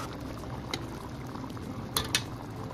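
Beef pares broth simmering in a pot, a steady close bubbling hiss with a few brief clinks of a spoon or utensil near the end.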